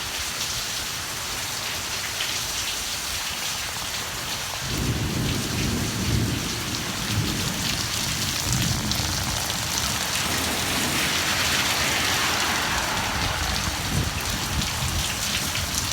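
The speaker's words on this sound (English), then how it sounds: "Oh, this rain is a blessing." Night rain falls steadily in Georgia while deep thunder rumbles and swells partway through, then lingers under the constant hiss of the downpour, with no voices.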